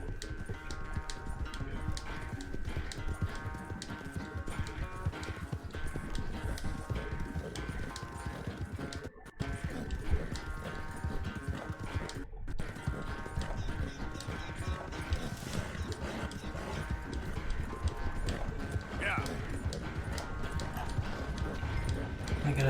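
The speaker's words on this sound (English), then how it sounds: "His horse is fast." Continuous rhythmic hoofbeats of a galloping horse in Red Dead Redemption 2 drum steadily throughout, loud and even over a constant background hum.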